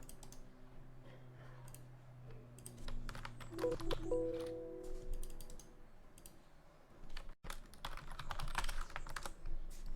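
A folder name typed on a computer keyboard, a short run of quick close key clicks with a few mouse-like clicks and faint background tones.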